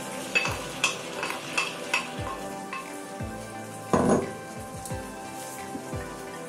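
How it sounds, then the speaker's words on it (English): Fresh tomatoes going into a pot of Nigerian beans porridge, with soft sizzling and a series of stirring scrapes and clinks, one heavier splash near the middle, close and moderately quiet with no talking. "So we need to add fresh tomatoes."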